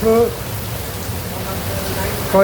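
Warm rain pouring steadily in Vietnam, a dense continuous hiss that fills the whole stretch, with brief bits of a voice at the start and end.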